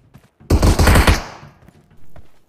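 An M762 rifle firing in the video game BGMI, a rapid burst of loud automatic shots lasting under a second, close and punchy, followed by a short quiet tail and a faint thud.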